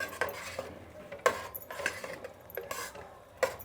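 Spoon stirring a curry after crushed kasuri methi and coriander are added, with several distinct scraping strokes against the pan at an uneven pace, close and fairly quiet.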